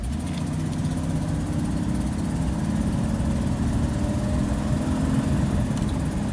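A Ford car with select-shift transmission pulls away from a start in drive, its engine giving a steady, loud mid-range drone with rumbling low end throughout, no talking.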